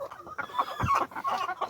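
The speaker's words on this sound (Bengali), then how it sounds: "380 পিস মুরগি এখানে আছে।" Layer hens on a small 380-bird poultry farm cluck and chatter in a short, busy burst of overlapping bird calls, fairly close and clear.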